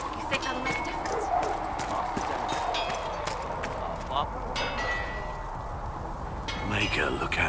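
Horse hooves gallop in the video game Dragon Age Inquisition, a quick clip-clop rhythm under quiet game ambience with clinks of tack, steady throughout and moderately near.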